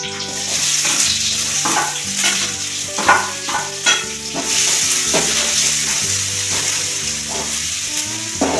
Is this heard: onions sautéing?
yes